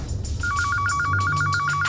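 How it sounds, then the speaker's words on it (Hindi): A telephone rings in a fast, steady trilling electronic bell pattern, loud and close, with no voices. "उसी समय मिस्टर शिनॉय का फोन आया"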